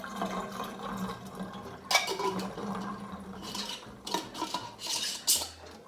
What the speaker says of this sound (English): Now I'm going to decant most of the liquid off of the yeast